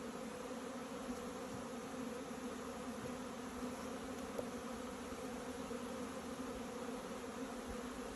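Bees hum inside an opened beehive holding just a handful of bees, a steady, low, even buzz that carries on without a break and with no voices.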